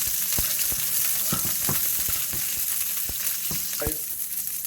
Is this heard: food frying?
yes